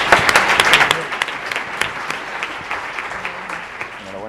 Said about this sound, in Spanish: un aplauso para el emprendedor